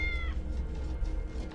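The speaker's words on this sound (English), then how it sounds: "but I'm sure that's a cat meowing." In the game Tales of the Neon Sea, a cat gives one brief, high, wavering meow near the start, followed by a low rumbling background.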